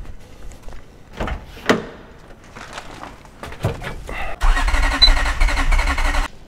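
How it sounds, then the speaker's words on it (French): A Honda Civic EP1 track car with a fuel regulator fault trying to start: a few clunks and brief cranking bursts, then a sustained loud grinding crank up close that keeps going without catching. "on va essayer de démarrer ça"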